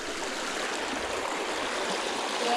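Water spilling over a log dam in a stream, dropping about three feet straight down, makes a steady, close, full rushing wash that holds even and unbroken throughout, with no voices.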